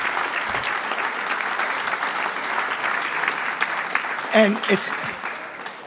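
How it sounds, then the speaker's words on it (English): An audience at a youth sports volunteer recognition event gives a round of applause, steady clapping near and loud, with a voice briefly speaking over it toward the end. "I want to give you a big round of applause."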